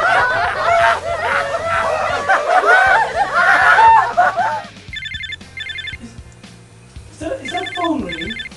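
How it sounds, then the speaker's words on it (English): A mobile phone rings in a sitcom setting, with repeated electronic ringtone bursts in the second half after a stretch of studio audience laughter. "is that phone ringing? Is that your phone?"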